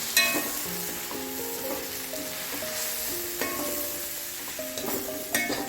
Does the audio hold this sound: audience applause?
no